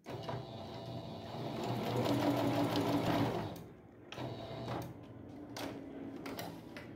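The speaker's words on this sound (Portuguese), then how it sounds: "E vamos continuar aqui a costura até chegar aqui embaixo." A sewing machine stitches a two-colour appliqué patch placemat, a steady fast mechanical whirr that runs loudly for a few seconds, eases off, then resumes in shorter bursts.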